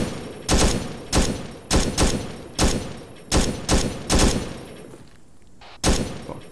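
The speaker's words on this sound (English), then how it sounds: "No, I'm getting shot at." Gunfire in the Arma 3 video game, on a Vietnam-era PvP mission, cracks out as about nine loud single shots at irregular intervals, with a brief quieter lull before the last one.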